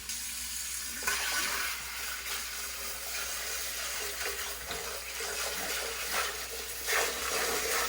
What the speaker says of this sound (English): this spray attachment on my faucet really comes in handy